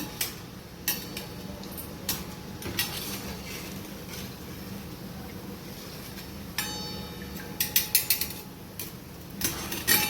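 Fried shankarpali lifted out of a pan onto a plate, with light metallic clinks and scrapes of utensils over a soft background of hot oil, bursts of clatter clustering near the end.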